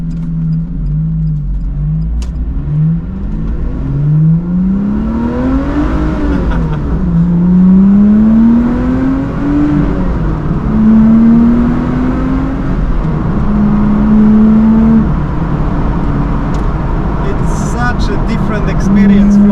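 A Lotus Exige 350 Sport's engine pulls hard on the road, rising in repeated climbing sweeps through the gears, loud and steady inside the cabin, with people talking over it.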